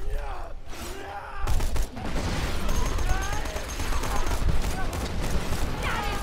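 Delayed bombs going off in Borderlands 2, a dense chaotic barrage of booming blasts and gunfire-like bursts that swells after a brief lull and keeps rumbling loudly throughout.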